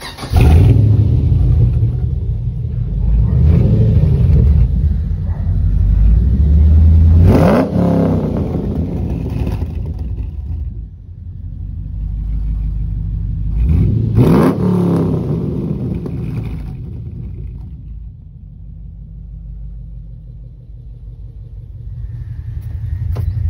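A Chevrolet Lumina SS with a manual gearbox revs hard while driving, its deep engine rumble climbing through repeated acceleration pulls with sharp gear-change dips, loud and close from inside the car.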